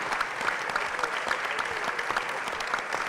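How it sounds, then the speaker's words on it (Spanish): Audience applause at a book fair, steady dense clapping from a crowd filling the whole stretch with no pauses. "yo les pido un aplauso a los compañeros que están encarando este proyecto"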